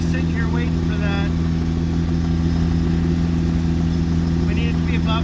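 A Quad City Challenger ultralight aircraft engine idles just above idle, a loud, steady low droning hum with strong buzzing tones, continuous and close, with a person talking over it.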